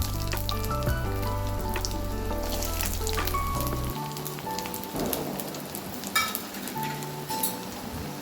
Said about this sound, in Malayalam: ബാക്കിയുള്ളത് കൊണ്ട് ഞാൻ ഇതിൽ വറുത്തെടുക്കുകയാണ് കേട്ടോ